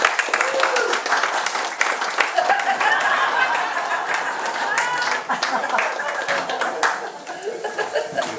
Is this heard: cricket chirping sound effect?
no